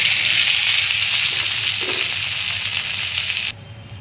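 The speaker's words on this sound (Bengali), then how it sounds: "আর হালকা করে সব সবজিগুলোকে ভেজে নেব।" Mixed vegetables fry in a pan of oil, making a loud, continuous crackling sizzle that holds steady and then drops abruptly in level near the end, with no voices.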